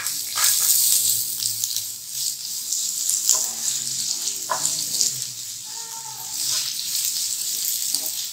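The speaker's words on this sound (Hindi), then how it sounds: "जब तक प्याज जो है वो फ्राई हो रही है" Onions fry in a pan for khageena, the Pakistani scrambled-egg dish, giving a steady bright sizzle close by that swells and eases with stirring, with a few faint watery bubbling sounds and no clear speech.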